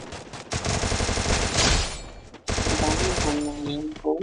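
Rapid automatic weapon fire in the Free Fire battle game, two loud dense bursts of continuous shots separated by a brief pause, close and dominant, with faint game sounds at the end.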